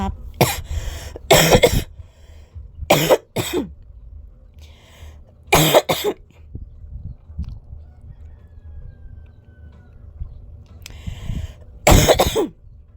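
Several sharp, harsh coughs come in bursts, some doubled, spread across a quiet background with faint shuffling between them.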